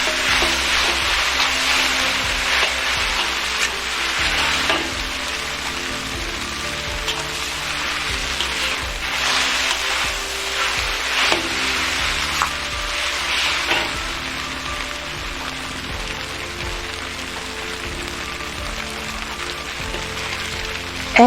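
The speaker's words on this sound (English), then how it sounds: "Stir fry to get all ingredients well mixed and noodles coated." Knife-shaved noodles sizzle loudly in a hot pan while being stir-fried, a crackling hiss broken by scraping stirs and tosses, close and continuous for the whole stretch with no one speaking.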